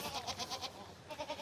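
A Poitevine goat bleats on a farm, a short, wavering, rhythmic call with a quivering pulse, moderately faint with faint background noise and no talking.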